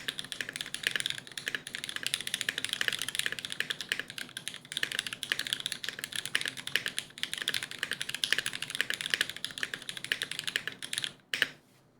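Continuous fast typing on a mechanical computer keyboard fitted with Mudbeam switches and used for about five to six years, a dense clacking stream of keystrokes up close that stops abruptly near the end, with no talking.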